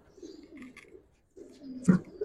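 Old-breed Giribaz pigeons at a loft giving low, soft cooing calls in two bursts separated by a short silence, close and moderately loud, with a sharper flutter or thump near the end and no speech.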